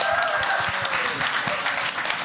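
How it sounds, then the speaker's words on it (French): Audience applause greets two newly named team captains at a live game-show style event, a steady burst of clapping with a voice talking over it. "on les applaudit bien fort."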